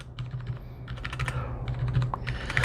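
Keys clatter on a budget gaming keyboard in quick, irregular bursts of close, crisp clicks, with a low steady hum underneath and no one speaking.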